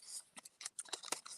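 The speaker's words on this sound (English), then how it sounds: "I'm just shuffling the papers." Small slips of paper being shuffled by hand at a craft table, a quick series of crisp rustles and flicks, close and soft, with no talking over them.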